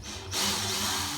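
A power drill starts a hole in a vehicle tub during a mud shield kit fitting, beginning with a low whir that jumps to a steady, loud grinding buzz after a moment.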